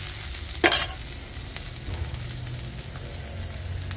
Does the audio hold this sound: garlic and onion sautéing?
yes